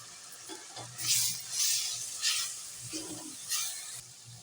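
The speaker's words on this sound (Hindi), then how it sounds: "इन मसालों को भी हम अच्छी तरह से भून ले लेंगे।" Spices and crushed red chili frying in a pan for a cluster bean curry, giving a soft continuous sizzle with a few gentle stirring scrapes, quiet and close.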